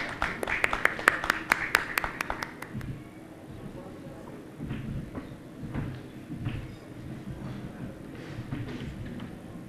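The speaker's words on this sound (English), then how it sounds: "Can we please have a big round of applause while welcoming them?" A brief burst of audience clapping at a conference stage session fades out after a few seconds, followed by low room murmur and shuffling.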